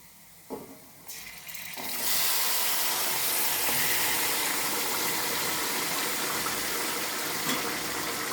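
Marinated chicken drops into a pan of golden brown fried onions, setting off a loud, steady sizzle and hiss that swells after a couple of soft clatters and then holds close and continuous.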